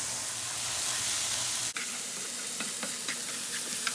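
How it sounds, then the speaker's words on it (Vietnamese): Garlic, shallots and lemongrass sizzle and hiss steadily in a hot pan while being stir-fried golden, with a sudden sharp clatter partway through followed by light stirring scrapes. "xả bỏ vô luôn, xào cho nó vàng lên nha."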